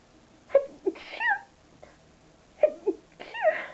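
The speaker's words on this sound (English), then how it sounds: "I'm about to sneeze." A sneeze-like burst of breathy, gasping sounds, two sharp intakes followed by a strained exhale, repeated twice with a pause between.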